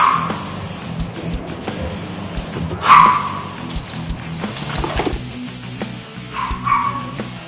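Terriers bark and yip in short excited bursts while hunting rats, one sharp bark standing out, amid outdoor background noise and scuffling.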